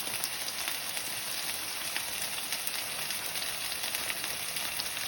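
A pot roast sears in olive oil in an uncoated steel pan, giving a dense, steady crackling sizzle with fine popping spatters, close and continuous throughout.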